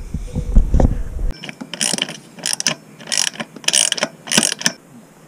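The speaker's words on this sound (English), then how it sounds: "I'm so glad that they included this wrench that spins, because it's impossible to tighten them with these." A spinning ratchet wrench tightens bolts on an IronMan 4x4 awning mounted to a van's gutter roof rack, giving several loud, close clicking ratchet bursts in a steady rhythm after an initial clunk.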